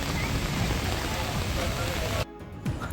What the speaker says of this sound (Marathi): कोकणामध्ये सध्या उन्हाळ्यामध्ये सुद्धा भयंकर पाऊस सुरू आहे